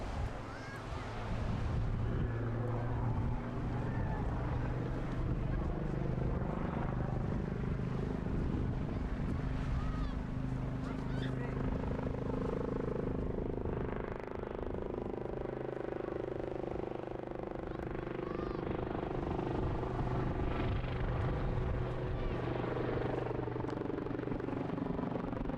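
Wildcat military helicopter flying at an airshow, a steady loud rotor and turbine roar with wind buffeting the microphone throughout.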